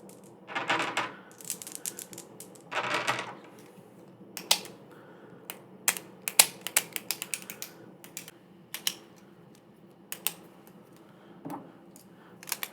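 Pens handled close up for ASMR produce a scatter of crisp clicks, taps and rattles, with a couple of longer rustling scrapes early on, irregular and intimate with no talking.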